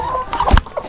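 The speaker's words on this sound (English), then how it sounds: "So you can see the broody hens." Broody hens in a homestead flock of over 200 chickens give a few short, close clucks in a quick burst.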